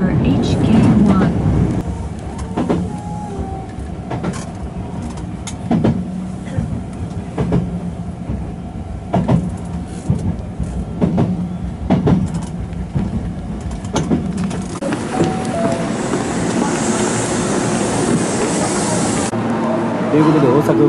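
Hankyu train rolling into Osaka Umeda terminal station, a steady loud interior rumble with rail clicks and a rising whine near the end as it pulls in, heard from on board.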